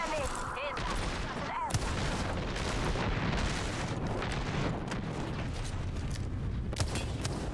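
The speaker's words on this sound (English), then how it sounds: "We're gonna get airstrike." Airstrike explosions in Apex Legends rumble and crack in a dense continuous barrage, booming impacts layered with rapid gunfire, loud and close, with a voice briefly heard early on.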